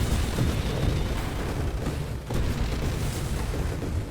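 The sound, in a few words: explosions in the video game Nova Drift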